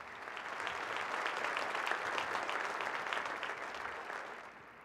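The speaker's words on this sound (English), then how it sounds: "so let's give them a round of applause" Steady round of audience applause for visiting family members at a Texas Tech men's basketball welcome event, a dense even wash of many hands that holds and then tapers off at the end.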